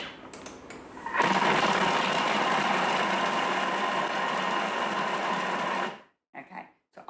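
A Thermomix chops leek at speed 5, its motor spinning up into a steady loud whirring drone for about five seconds before stopping abruptly, followed by faint clatter.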